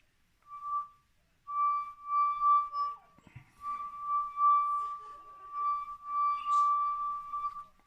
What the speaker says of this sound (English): that noise isn't coming from anywhere else other than me putting my finger on the rim of the glass